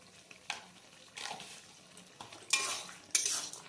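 A potato and snake gourd vegetable curry is stirred in a pot after sugar and garam masala go in. Quiet background noise is broken by a few bursts of scraping and clattering metal utensils against cookware, nearby.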